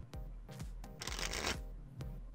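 A deck of trading cards is shuffled during a four-player Force of Will game, with a series of close, crisp riffling and snapping bursts repeating in quick rhythm and no talk.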